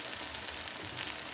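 Vada, lentil fritters for an idly dinner, frying in a pan of hot oil: a steady, close, dense sizzling hiss that holds at an even level throughout, with no talking.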